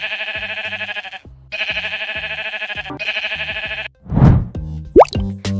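The pink sheep character from the Minecraft Movie bleats in short, repeated, game-like tones, followed by a plopping thud and a rising boing, loud and close with no talking.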